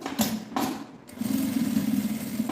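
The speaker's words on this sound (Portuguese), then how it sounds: "E aqui eu vou rebater uma costurinha de meio pé de máquina" A sewing machine runs a line of stitches along a zippered pouch with a bellows gusset, a couple of short starts then a steady, close mechanical whir.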